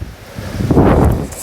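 Wind gusts buffet the microphone in a steady low roar that swells midway, with no voices.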